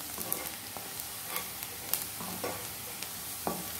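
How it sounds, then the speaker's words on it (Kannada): Onions fry in a pan for Mangalore-style prawn sukka, a steady close sizzle with light scraping stirs and a few clinks of a utensil against the pan, with no talking. "ಈರುಳ್ಳಿ ಫ್ರೈ ಆಗ್ತಾ ಇದೆ"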